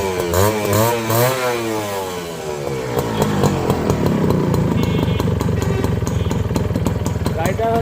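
A Honda CDI H100S motorcycle with its original Japanese carburettor starts up and settles into a steady, close, putt-putting single-cylinder idle, with someone talking over the start.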